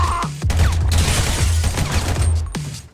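Gunfire in the video game GTA Online during a rescue mission: a loud, dense burst of shots crackles almost continuously, with sharp onsets at the start and near the end.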